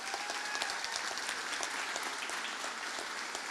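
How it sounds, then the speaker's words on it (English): A graduation audience at a college ceremony breaks into dense, sustained applause, a steady wash of many hands clapping at even loudness throughout, with no voices over it. "give our graduands a"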